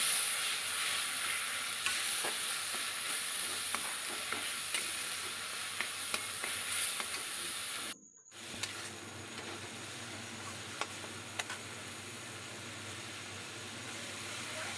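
Cumin powder, coriander powder, turmeric and salt masala sautés with a splash of water, making a continuous close sizzle with stirring clicks and a short dropout midway, then the frying resumes slightly quieter.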